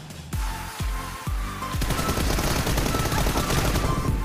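Automatic gunfire in BGMI during a one-on-one team deathmatch: a few sharp, separate shots quickly give way to a dense, sustained stream of rapid fire that stays loud and close to the end.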